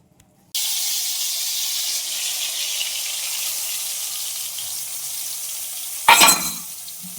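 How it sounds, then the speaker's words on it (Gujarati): Spice masala for dabeli hits hot oil and splutters, an abrupt loud sizzle that settles into a steady hiss of frying, followed near the end by a brief louder burst of crackling and clatter. "આને હવે આપણે તેલમાં તતડાવી નાખીએ"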